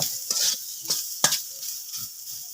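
Taro stems frying in a wok are stirred frequently, producing repeated bursts of scraping and sizzling against the metal in a quick, uneven rhythm, close and fairly loud.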